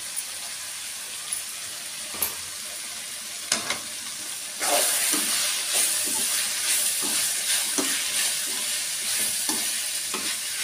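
Capsicum and other vegetables sizzle in a hot pan for veg fried rice. A few light clinks come first, then a steady loud frying hiss with repeated stirring scrapes.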